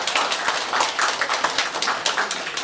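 An indoor audience at a volunteer and sponsor gathering claps for officials, a dense burst of many hands with rhythmic pulses that lasts a few seconds.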